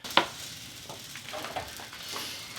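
A vegan quesadilla fries in a pan on medium-low heat, with a soft, low sizzle and a few light crackles and scrapes close by.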